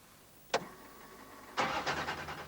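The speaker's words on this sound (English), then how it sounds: "Modern rally cars are very noisy inside" A rally car engine cranks with a short click, then fires up about a second later into a loud, close rumbling idle with a few uneven revs, with no talking.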